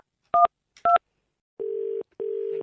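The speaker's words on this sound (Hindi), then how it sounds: "नंबर डायल करते।" A telephone number is dialed on a keypad: two short dual-tone beeps, then two longer steady tones, all clear and isolated against silence.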